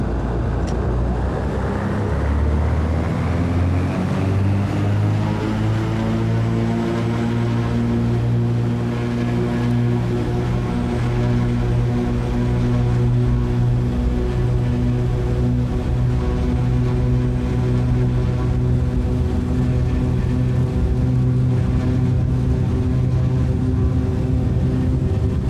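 A propeller aircraft accelerates along the runway on its takeoff run in Microsoft Flight Simulator 2020, its engine a loud, steady droning hum with rising harmonic tones that continue unbroken throughout, with no talk.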